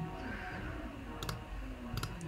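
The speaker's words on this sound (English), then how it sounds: "sometimes you're clicking wrong, so you need to make sure that you're clicking on the right ones" Sharp mouse clicks while working in Tinkercad, two quick double-click bursts standing out over a steady background hum.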